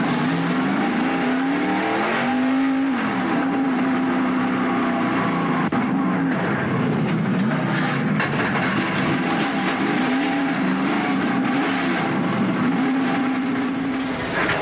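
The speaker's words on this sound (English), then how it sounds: "Here is the real time in car as he ran into the back of Jeff Bodine a few minutes ago as he was coming off pit road." In-car audio from a NASCAR stock car at Watkins Glen in 1995, with a loud engine drone that holds steady and rises and falls as the car changes speed, running throughout.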